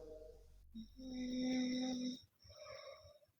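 A person snoring during an online Indonesian religious debate stream, a single long, loud rasping snore with a strong low buzz that swells and then breaks off, followed by a shorter, weaker snore-like breath.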